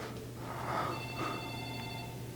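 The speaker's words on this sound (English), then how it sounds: "Yeah, the phone's ringing." A telephone rings in a gym setting, a steady bell-like ringing tone sustained throughout at moderate distance over a low hum.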